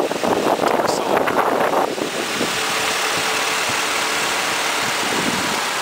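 A Mazda-derived 2.3-liter four-cylinder car engine idles with a steady, low rumble, partly buried under heavy wind buffeting on the microphone. The gusts are loudest in the opening seconds.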